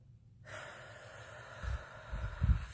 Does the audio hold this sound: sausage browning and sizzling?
no